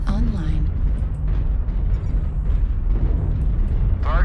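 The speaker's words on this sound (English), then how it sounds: "Artillery strike online" A heavy, rumbling artillery strike shakes the MechWarrior Online battlefield, a sustained low roar of explosions filling the whole moment, with a synthetic voice briefly speaking over it.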